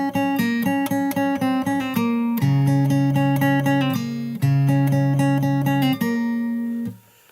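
Fingerstyle acoustic guitar picks the first bar of a song's second verse, a close run of repeated plucked notes with a few strummed chord hits, played alone and fading out at the end.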